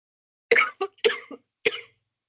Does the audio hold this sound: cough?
yes